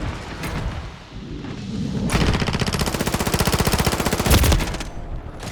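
Rapid automatic gunfire from the Call of Duty Modern Warfare 3 video game, scattered shots at first and then a long, loud, steady burst of machine-gun fire with a few heavier blasts near the end.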